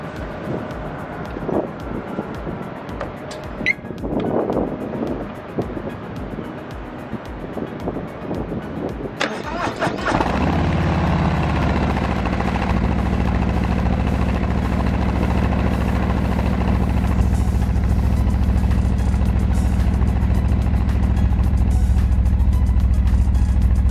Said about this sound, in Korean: 요 머플러 사운드를 이제 한번 들어보시고, 그 다음에 앞쪽 엔진 쪽에서의 사운드도 한번 같이 한번 찍어 보도록 하겠습니다.